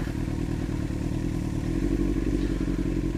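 A motorcycle rides along a snowy road, its engine a steady, close drone that holds throughout while the rider eases off on the clutch, with faint clatter from the bumpy surface underneath.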